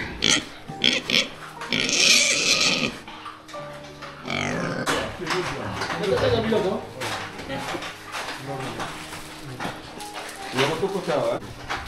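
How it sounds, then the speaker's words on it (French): Pigs grunt and squeal in a pen on a mixed farm in Kinshasa, with clattering and metal knocks mixed in, while someone talks over the animals throughout. "Ici, je suis là où on garde le cochon."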